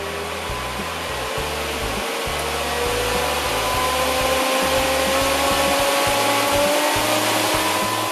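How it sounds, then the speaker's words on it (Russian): A French F4 manicure dust extractor with a metal body and adjustable power runs steadily, giving a continuous airy fan whoosh over a low, pulsing hum, close and even throughout. "Вытяжка невероятно устойчива, имеет низкие шумовые характеристики, обладает регулируемой мощностью."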